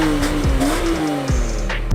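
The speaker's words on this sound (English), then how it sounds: "I can actually hear the induction noise." A car engine's steady intake hum and whine, rising and falling slightly, with a close, continuous mechanical drone.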